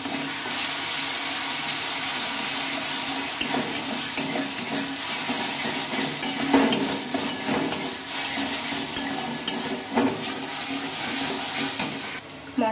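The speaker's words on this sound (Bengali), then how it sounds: "চিনিটা দিয়ে নেব, দিয়ে একটু ভালোভাবে নেড়ে চেড়ে নেব" Sugar is stirred into an egg and potato masala frying in a pan, giving a steady hot sizzle broken by scraping and stirring strokes, with no voices.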